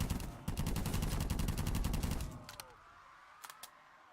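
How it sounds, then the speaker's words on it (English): A burst of rapid automatic gunfire aimed at a zombie in Black Ops 3 custom zombies, a dense rattling volley for about two seconds that tapers off, followed by a few isolated faint shots. "Now I gotta get ready to shoot a zombie."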